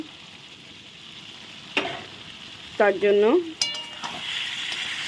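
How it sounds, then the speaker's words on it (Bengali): A spiced mixture is sautéed and stirred in hot oil in a pan. A steady sizzle runs throughout, broken by a few sharp scrapes and clinks of the spoon, and a voice speaks briefly. "দেখো সুন্দর কষানো হচ্ছে"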